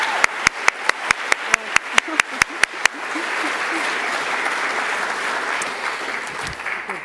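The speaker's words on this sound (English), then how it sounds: "Please put your hands together for the NT Australian of the Year" At the Northern Territory 2021 Australian of the Year Awards ceremony, one person's evenly spaced sharp claps open, then swell into loud, sustained applause from the whole audience for NT Australian of the Year Dr. Wendy Page.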